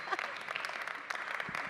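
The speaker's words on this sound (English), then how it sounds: "You can clap for that." A conference audience gives a short, faint round of clapping that sounds distant and thin, lasting under two seconds.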